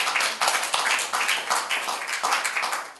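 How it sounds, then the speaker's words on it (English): Audience applauding at a talk on the military industry, a brief round of clapping with distinct individual claps, pulsing unevenly and tapering slightly toward the end. "Quick round of applause for Bill."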